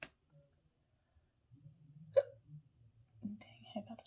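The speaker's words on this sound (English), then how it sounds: "hiccups every time" A single sharp hiccup bursts out at close range, a brief high-pitched catch between stretches of quiet, with low murmuring voices around it.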